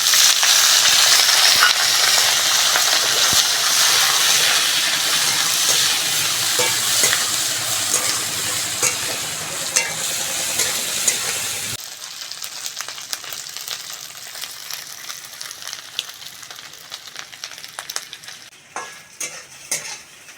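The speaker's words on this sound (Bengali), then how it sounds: "গরম জলে ধুয়ে রাখা শুটকি মাছগুলো ভেজে নেব।" Dried fish (shutki), washed in hot water, frying in mustard oil in a wok, a loud dense sizzle at first that drops to a softer crackle, with utensil stirring and scraping throughout.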